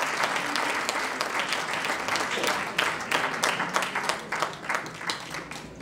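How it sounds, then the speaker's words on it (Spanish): Audience applause at a jota festival, with dense, steady clapping from a crowd that continues throughout and thins slightly toward the end. "fuerte aplauso a la Escuela de Jotas de Carcastillo y Murillo Cruz"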